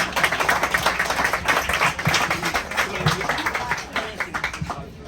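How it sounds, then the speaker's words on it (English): Gathered audience clapping in a rhythmic, somewhat uneven round of applause, fairly close and lively, with voices mixed in beneath the claps. "A round of applause for all of you,"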